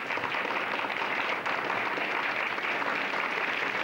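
A theater audience at a magic show applauds with steady, dense clapping that holds at an even level throughout, close and full.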